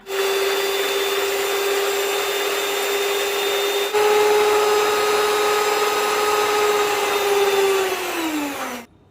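An electric hand mixer runs at top speed, beating banana cake batter of eggs, sugar, salt and milk: a loud, steady motor whine with a bump partway through, then slowing and cutting off at the end.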